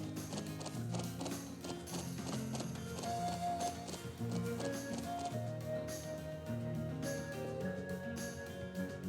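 Horse hooves clatter at a gallop in the video game Trails of Cold Steel, a steady clip-clop rhythm running under layered game music throughout.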